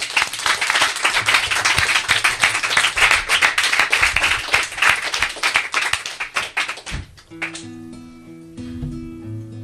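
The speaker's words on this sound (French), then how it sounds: "Tiens, donc sous vos applaudissements, Poké 16." An audience claps and applauds at a live comedy show, with dense, sustained clapping for about seven seconds before it thins out and music with sustained tones takes over.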